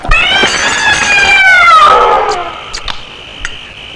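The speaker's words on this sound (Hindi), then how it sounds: "इस बिल्ली को खाने की टेबल से दूर रखा करो।" A cat lets out a long, loud, drawn-out meow at close range that slides downward in pitch, followed by a few faint knocks and rustles in an indoor room.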